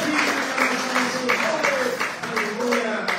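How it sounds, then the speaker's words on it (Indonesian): A church congregation claps in praise of Jesus, a dense patter of hands filling the room beneath a voice and sustained tones that carry over the applause. "Tepuk tangan buat Tuhan Yesus."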